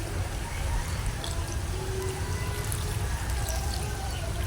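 A small splash of water poured into a pot of pork adobo with vinegar, chili and onion, a soft steady trickle and pour under a constant low cooking hiss, close by with no talking.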